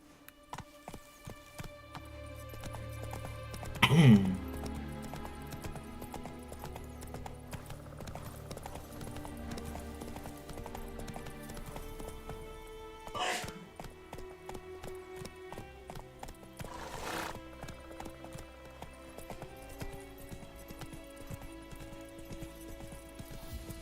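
Hooves of Roach, a horse in The Witcher 3, clip-clop in a steady galloping rhythm, with a louder thump and a possible whinny early on, over game music with a few loud accents.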